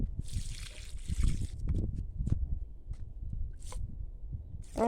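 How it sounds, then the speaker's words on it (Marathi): Water poured from close by onto garden plants in summer, with trickling, sloshing splashes in uneven bursts, fairly loud over low background rumble and with no talk. "उन्हाळ्यात जरा जास्त पाणी घालायला लागते"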